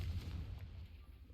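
A Confringo fire spell explodes in Hogwarts Legacy, a deep booming blast with a rumbling low tail, short and heavy, fading quickly without any talking.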